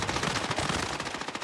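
Rapid automatic gunfire in the Call of Duty Warzone video game, a dense, loud, continuous burst of shots lasting the whole moment with no pauses.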